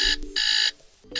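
A loud electronic buzzer alarm tone from a Lenovo Tab M9 tablet sounds in three bursts, two long and one short, with brief gaps between them.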